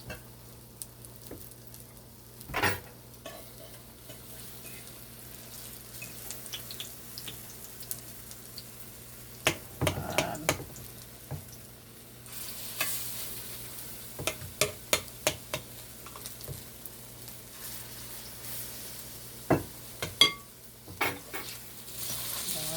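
Ripe banana fritters frying in oil, a steady low sizzle with intermittent sharp clicks, stirring scrapes and spatters scattered throughout, fairly faint and with no talking.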